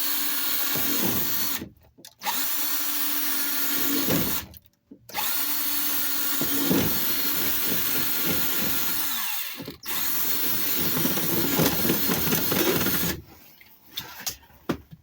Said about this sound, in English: we're going to drill an unnecessary hole right here